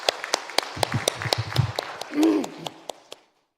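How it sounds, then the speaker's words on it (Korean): Church congregation at a Sunday worship service clapping in a sparse, irregular patter of individual claps, with a brief murmur of voices partway through before the clapping fades out. "박수 한번 치겠습니다."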